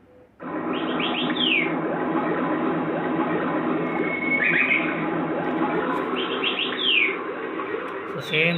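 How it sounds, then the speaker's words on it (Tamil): An ocean wave projector gadget plays recorded birdsong: chirps and trills recur over a steady hiss-like background, close and moderately loud, starting abruptly after a brief quiet moment. "சவுண்ட் மட்டும் பார்த்திங்கன்னா ஒரு பேர்ட் சவுண்ட்ஸ் வரும்"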